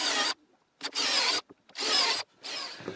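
A drill bores holes into wood for a workbench clamping system in four loud, close bursts separated by brief silences.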